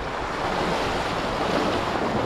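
A strong sea current and waves rush steadily past the boat, giving a dense, unbroken wash of surf close by under wind noise, with no talking.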